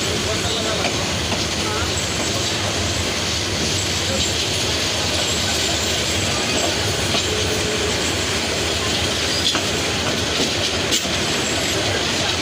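A passenger express train rumbles steadily past with rhythmic clicking of wheels on rails and occasional metallic squeal, loud and continuous.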